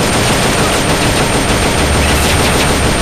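Sustained heavy automatic gunfire from a chain gun in the co-op video game Metal Gear Solid: Peace Walker, a dense continuous roar of rapid shots with explosive bursts, loud and unbroken throughout.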